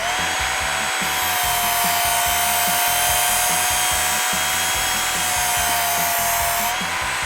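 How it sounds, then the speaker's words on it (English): A kitchen knife is drawn across a running belt sander, making a loud, constant motor whine over a rhythmic rasping grind as the blade passes the belt, with no talk. "we're just going to take it and draw it across the sander like this, across the belt"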